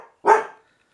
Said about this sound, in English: And Jack is barking because there could be a little postal van